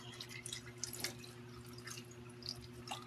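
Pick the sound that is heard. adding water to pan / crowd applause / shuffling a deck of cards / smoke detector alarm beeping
adding water to pan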